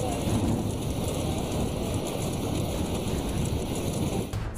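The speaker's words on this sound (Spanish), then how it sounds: "fuertes lluvias y granizo causaron destrozos," Heavy rain and hail pound down in a storm, a dense continuous roar of drumming and clatter at close range with no pauses.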